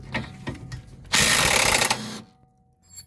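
A 14 mm bolt being removed from the rear control arm of an eighth-generation Honda Civic: a few light clicks and taps, then about a second of loud, close power-tool whirring, followed by quiet and a faint final knock.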